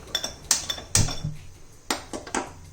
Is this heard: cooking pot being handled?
yes